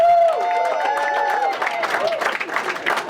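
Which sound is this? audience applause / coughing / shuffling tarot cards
audience applause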